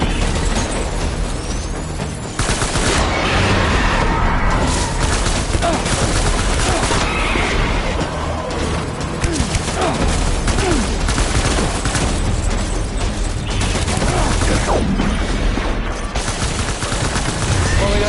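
Gunfire in the video game Death Stranding: dense, rapid bursts and rattling volleys pour out continuously, loud and close, with intermittent voices shouting over the shooting.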